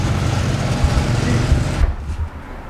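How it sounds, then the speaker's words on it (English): A car with a rough, bad-sounding exhaust running close by, giving a loud, steady low rumble that drops away sharply near the end. "This car sounds so bad, bro."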